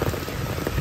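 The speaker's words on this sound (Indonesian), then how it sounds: "Penasaran kalau hujan besar gini di rumah Abah Jajang kayak gimana ya suasana" Heavy rain pours down on a house at Curug Citambur, a dense, steady patter of drops on the roof and surroundings filling the whole moment with no voices.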